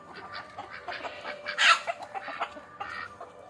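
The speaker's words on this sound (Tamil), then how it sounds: "நம்ம என்ன கோழியை கூட்டு திறந்துட்டு இன்னும் இறை ஒன்றுமே போடல." Native country chickens let out of their coop in the morning, clucking in a busy overlapping chorus with one louder burst midway, fairly close and with no talking.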